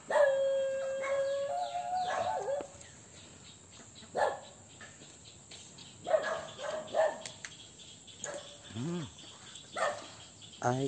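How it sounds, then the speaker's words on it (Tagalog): Dogs scuffle in a forest, with snarls, yelps and howl-like cries coming in bursts over several seconds, fairly close, as crickets chirp in the background. "Mga away ng aso."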